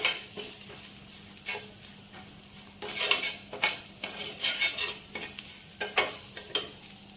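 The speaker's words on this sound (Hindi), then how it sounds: "इन सब मसाले को भूनिए।" Chili, cumin and ground coriander frying in a pan give a soft continuous sizzle, punctuated by repeated scraping and stirring strokes of a spoon, close by and with no talk.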